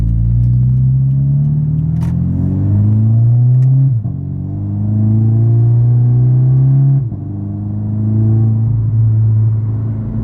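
A Scion FR-S with an aftermarket front pipe and tune revs under a light, roughly 40% throttle pull, its loud engine note climbing steadily through the rpm range, dipping at two gear shifts and rising again each time.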